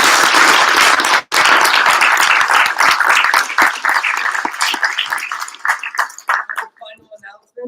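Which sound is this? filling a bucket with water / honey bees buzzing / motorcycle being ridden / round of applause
round of applause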